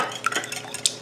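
Eggs and vegetable oil stirred together in a bowl for a cookie mix: quick, uneven utensil scrapes and light clinks against the bowl, with a sharper tap near the end, close and fairly quiet.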